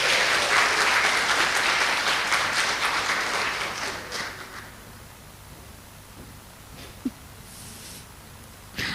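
Keynote speakers at a herbs and toxicants conference receive audience applause, a full burst of clapping for roughly four seconds that dies away into a quiet hall with a faint thud near the end.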